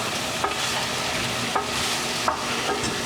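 Baby corn and beans are stirred in a hot pan for a stuffed bell pepper filling: a constant close sizzle with a few sharp spatula scrapes spaced about a second apart.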